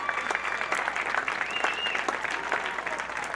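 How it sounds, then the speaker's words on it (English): Audience applause at a charity fundraiser gala, a brief burst of steady clapping from a crowd filling the room, fairly close and without pause. "Give him a round of applause."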